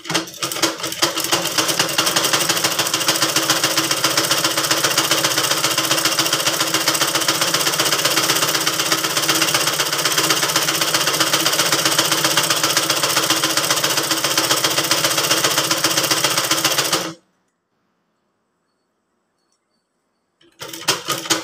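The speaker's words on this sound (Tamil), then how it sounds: "இப்போ இந்த இடத்துல ஒரு தையல் போட்டுக்கலாம்" A sewing machine stitches blouse fabric in a fast, even mechanical chatter that runs loud and continuous for about seventeen seconds, stops abruptly into silence, then restarts briefly at the end.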